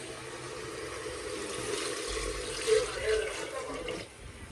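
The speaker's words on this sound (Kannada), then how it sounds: "ನೀರು ಹಾಕುವ." Water poured into a biryani pot, a soft steady gushing stream at close range, swelling briefly before tapering off near the end.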